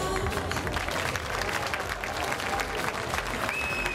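Steady, dense applause from an audience at a summer concert in Bodrum, sustained clapping from a sizable crowd throughout, with a brief whistle-like tone near the end.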